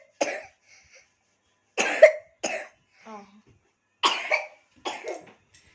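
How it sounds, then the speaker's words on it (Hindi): A pet recovering from a cold coughs in short, close bursts, about five separate hacking coughs with quiet pauses between them, in an otherwise silent setting. "दीबू का जुकाम अभी थोड़ा ठीक हो गया है और खांस देता है सुन के कि सच में हो रहा है।"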